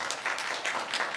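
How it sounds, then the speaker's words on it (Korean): Applause from a church congregation, a steady wash of many hands clapping at moderate level throughout, without talk. "박수 한번 쳐주세요."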